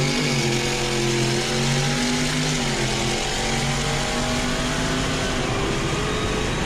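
A modded Mopar car accelerates hard on the road, its loud, continuous engine roar rising steadily in pitch through the gears, close and dominant with no talk over it.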